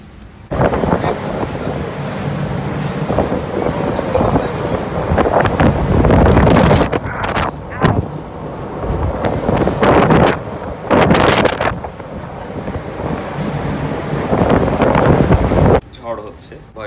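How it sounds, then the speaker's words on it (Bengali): Storm wind and rain battering a rolling ship on the Atlantic at night, heard as loud, gusting roar and rushing noise with surging peaks, close and constant, and someone talking over it. "বাইরে অন্ধকার হয়ে গেছে, প্রচণ্ড বাতাস আর বৃষ্টি"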